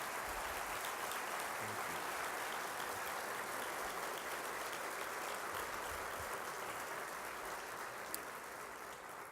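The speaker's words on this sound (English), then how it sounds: "And if you could, Beth, please stand and get a hand clap" An audience applauds at a formal Office of Justice Programs event, a sustained, even round of clapping that sounds distant and fairly quiet and continues without break.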